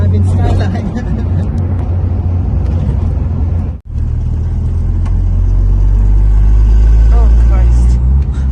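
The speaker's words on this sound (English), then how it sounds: "We're driving Skyline." A Nissan Skyline R33 with a forged engine on its first drive gives a loud, steady low rumble from inside the cabin, with a brief dropout midway before the engine note swells again under people talking.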